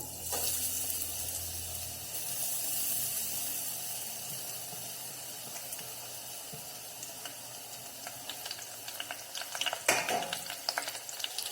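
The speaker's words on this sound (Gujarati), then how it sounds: "આ છીણને ઘીમાં સારી રીતે શેકવાની છે" Grated sweet potato roasts in hot ghee over a medium flame, giving a steady broadband sizzle with occasional scraping stirs, louder and busier toward the end.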